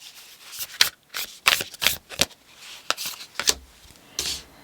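Tarot cards are shuffled by hand up close in a series of quick, crisp riffles and slaps. The bursts come in uneven rhythm with brief pauses between them.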